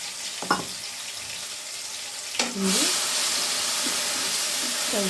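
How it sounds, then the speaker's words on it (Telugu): A ground paste of tomato, mint and coriander hits hot oil, a couple of soft knocks giving way to a loud, steady sizzle with faint stirring scrapes. "పచ్చిగా పోయేదాకా బాగా వేయించుకోవాలండి."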